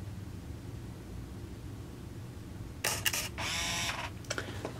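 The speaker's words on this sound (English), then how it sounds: "if I push the shutter button, we see this red light blinking" A Minolta Explorer Freedom Zoom 35mm film camera runs its self-timer cycle. Faint background hiss gives way to a quick series of crisp mechanical clicks and short whirring motor bursts near the end.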